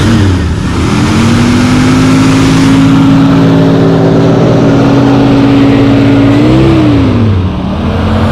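A 1984 Ford F-150 regular-cab pickup's engine runs steadily on its own, a loud, close, continuous hum with a slight rise in pitch near the end before settling back.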